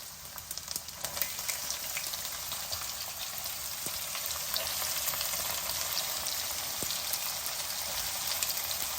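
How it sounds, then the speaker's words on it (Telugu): Garlic and onions fry with cumin seeds in hot oil, giving a steady, fairly quiet crackling sizzle throughout, with scattered small pops and no voices. "జీలకర్ర వేగగానే వెల్లుల్లిపాయలు వేసేద్దాం వన్ బై వన్ వెల్లుల్లి తర్వాత ఉల్లిపాయలు"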